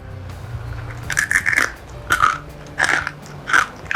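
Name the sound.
crunchy bite of plant-based food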